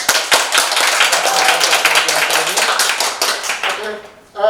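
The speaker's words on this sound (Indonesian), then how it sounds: "sekali lagi kita mungkin berikan aplaus buat Mbak Samantha" Audience applause for a speaker at an Indonesian youth economic talk event, a steady burst of many hands clapping for about four seconds that fades out near the end, with a voice briefly audible as it stops.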